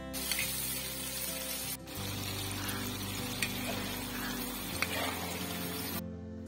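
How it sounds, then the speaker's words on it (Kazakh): Carrots frying in oil in a cauldron set over a wood fire, giving a steady broadband sizzle throughout with a few soft clinks and a brief break near the start. "Қазанға май құйып, қыздырып, сәбіз салып қуырамыз."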